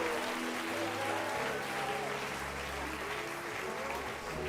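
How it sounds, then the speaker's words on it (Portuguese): A church congregation gives strong, sustained applause, a dense continuous wash of many hands clapping with a low sustained tone beneath, filling the room at steady loudness. "A igreja pode dar um forte aplauso a Jesus"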